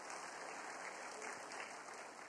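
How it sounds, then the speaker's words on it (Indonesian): A church congregation applauding during a Sunday service, a steady wash of clapping that holds at an even level for about two seconds with no voices over it. "Tepuk tangan bagi Yesus kita."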